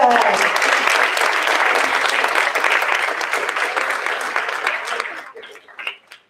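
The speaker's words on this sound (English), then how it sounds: "Big round of applause for Jacob." Audience applause at a school board meeting, with a dense, steady clatter of many hands clapping for about five seconds, then thinning out and fading to a few scattered claps.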